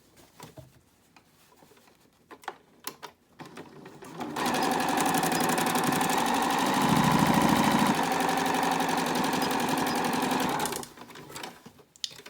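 A sewing machine backstitches a fabric face mask with a loud, steady motor whir of about six seconds, its pitch dipping briefly mid-run, framed by quieter clicks and fabric handling before and after.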